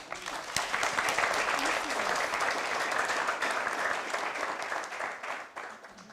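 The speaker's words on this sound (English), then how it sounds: "Can you give her a huge clap?" Audience applause at an executive council election gathering, a strong, steady roar of many hands clapping that holds for several seconds before tapering off at the close.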